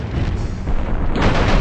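Mech weapons firing during an attack run in the video game MechCommander, a rumbling wash of booming shots and explosions that swells louder in the second half, dense and continuous with no clear separate shots.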